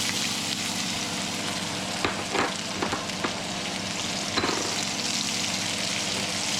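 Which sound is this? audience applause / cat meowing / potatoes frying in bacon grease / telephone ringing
potatoes frying in bacon grease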